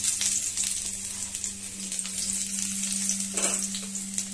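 Chopped garlic hits hot oil in a wok for soupy noodles, producing a close, continuous sizzle over a low hum, with a brief stirring scrape near the end.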